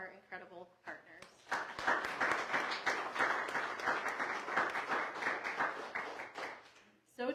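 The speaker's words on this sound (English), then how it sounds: "Please join me in a round of applause for all of our incredible partners." An audience at a crisis center ribbon cutting breaks into dense, steady applause that swells after a brief spoken line and lasts several seconds before fading, with a voice returning at the end.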